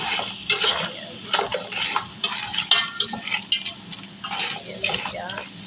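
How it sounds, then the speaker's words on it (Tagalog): Garlic frying in a pan while being stirred, with steady sizzling and repeated scraping strokes of a utensil against the pan, close and moderately loud, with no talking. "Halo-halo lang para lumasa yung"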